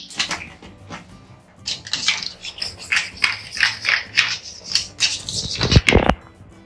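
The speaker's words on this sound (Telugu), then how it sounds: "కొన్ని వాటర్ యాడ్ చేశాను, సాల్ట్ కూడా యాడ్ చేశాను" Water is poured into a bowl of yogurt raita, a steady close splashing and trickling that swells in uneven bursts and ends with a couple of sharp knocks.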